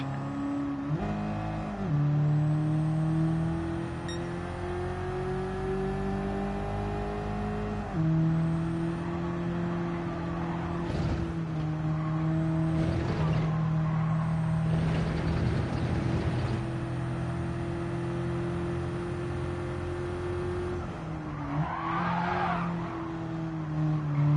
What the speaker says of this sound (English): 5 laps in the Abarth 500